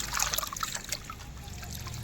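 Bhopatri leafy greens being washed in a pot full of water, with close splashing, trickling and dripping as the leaves are swished about.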